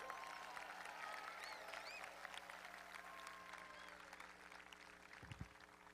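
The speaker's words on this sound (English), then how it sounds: "Give them a round of applause." A stadium crowd at a high school class of 2021 graduation applauds, a steady wash of distant clapping and faint cheers that holds throughout before tapering slightly, with a low hum beneath.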